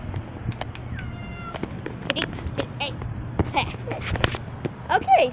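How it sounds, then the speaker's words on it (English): A small domestic cat outdoors in Hawaii gives a few short meows in the middle and near the end, close and fairly clear over a low steady hum and scattered background noise. "I heard a cat."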